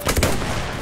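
Gunfire in the World War I shooter game Battlefield 1, a quick burst of two or three loud, close shots followed by a brief fading echo.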